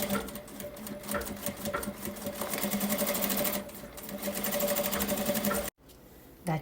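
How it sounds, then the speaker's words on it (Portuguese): A sewing machine runs a backstitch seam, a loud, close, steady mechanical whirring that slows briefly partway, cuts off sharply near the end, then a faint quiet stretch follows. "eu vou passar uma costurinha com retrocesso aqui e aqui também"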